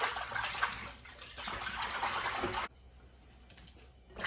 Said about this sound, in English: Wash your fish real nice